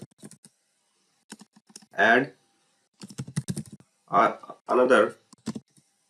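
Clicks of typing on a computer keyboard while writing code in Visual Studio 2022, in short clusters between a man's speech, close and fairly soft.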